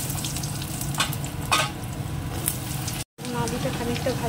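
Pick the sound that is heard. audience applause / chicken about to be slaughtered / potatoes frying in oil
potatoes frying in oil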